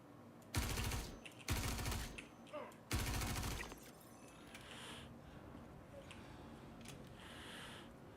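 Three sharp bursts of automatic gunfire in Star Citizen, each lasting under a second, loud and close, followed by quieter ambient sounds.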